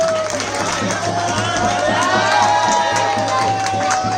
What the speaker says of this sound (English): Please give him a lot of applause, guys.